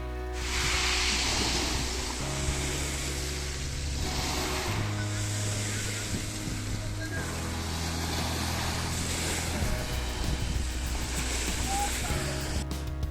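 Waves wash continuously onto the shore at Nice, France, in the evening, with a broad, rushing roar, accompanied by a low steady rumble throughout.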